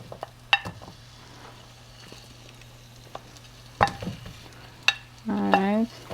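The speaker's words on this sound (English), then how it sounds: "I'm gonna go in with my onion first, just like that." Chopped onion drops into a pot greased with oil and starts to sizzle. A few sharp clinks and knocks of utensils against the pot come first, followed by a short burst of hissing and scraping near the end.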